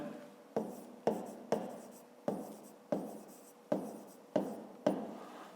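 Pen strokes on paper while writing out a fifth-grade math exercise: about ten crisp, evenly spaced scratchy taps close up, each fading quickly, with no speech.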